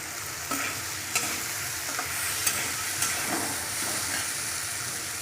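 Peanuts frying in white oil in a pan while making sabudana khichdi, a steady sizzling hiss with a few soft clinks and stirs of a spoon against the pan.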